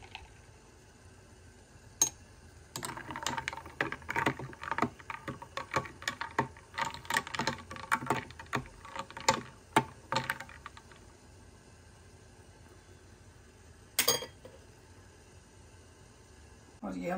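Orange juice with ice cubes, black salt and lemon stirred in a glass, with a rapid run of clinking spoon-on-glass ticks and light sloshing, faint and close, then scattered clicks.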